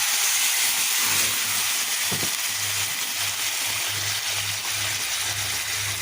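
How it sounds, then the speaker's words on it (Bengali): Hot water poured into a pot of fish braised in spices and tomato sauce, giving a steady loud hiss and steaming bubble throughout, with a brief stir or clink partway through. "মশলা দিয়ে মাছটা কষিয়ে নিয়েছি এবার গরম পানি দিয়ে দিলাম"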